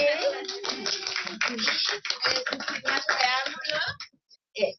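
An audience at a lecture event on migration challenges claps in a dense patter of applause that tapers off after about four seconds. A voice speaks over it.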